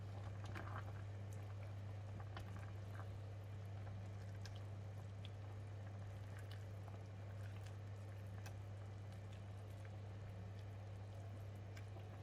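Misua soup with luffa simmering in a covered pot, a faint, steady bubbling and gentle boiling hiss with occasional soft pops over a low hum.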